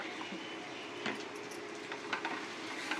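Drumstick leaf greens being stirred in oil in a pan give a faint, steady sizzle broken by a few soft scrapes and light clicks of the spoon against the pan.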